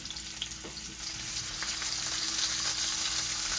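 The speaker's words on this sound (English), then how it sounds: "So we got our oil heated up here. We're going to add in our zucchini." Sliced zucchini sizzles in hot oil in a pan, a steady close crackle that grows a little louder after the first second.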